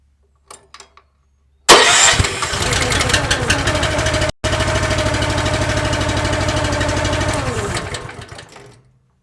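A Split Force 13/20T firewood splitter's small engine cranks briefly and catches, then runs at a loud, steady idle for several seconds before shutting off and dying away.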